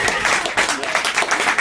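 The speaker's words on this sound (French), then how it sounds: "On vous applaudit et on vous remercie tous les deux." Studio audience applause during a French radio broadcast, steady dense clapping that stays loud throughout with no break, likely with a voice speaking over it.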